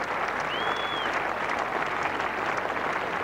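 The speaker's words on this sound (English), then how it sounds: "Being applauded off by the England players." Steady applause from a crowd at a 1985 England versus Australia cricket test match as a batsman leaves the field after a long innings, a continuous, even wash of clapping heard from a distance with no talking.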